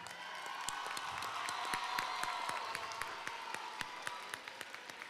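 An audience at a high school graduation ceremony applauds the graduating class, a fairly distant, sustained crowd clapping with sharp individual claps standing out and faint cheers mixed in.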